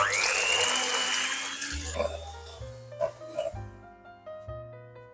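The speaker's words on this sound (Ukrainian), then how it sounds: "за допомогою міксера все збиваю до однорідності, до стійких піків" An electric hand mixer whipping cream to stiff peaks for a honey cake, a steady high whine that slows and winds down partway through, followed by clinking and bumping of the bowl, close by.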